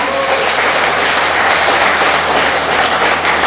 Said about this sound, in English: Give them a final round of applause, everybody.